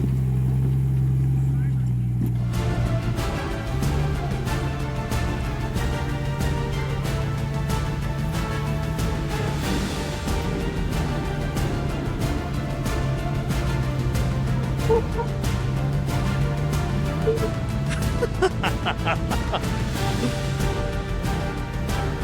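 A homemade Cybertruck engine drones as the truck climbs a rocky creek trail, holding a steady mid-level motor hum throughout with some clatter and shifts in effort, while people talk over it.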